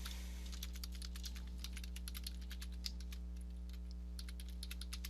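Rapid, light clicking of keys on a computer keyboard as an email subject line is typed, a steady patter with a brief pause before a final quick run, over a low electrical hum.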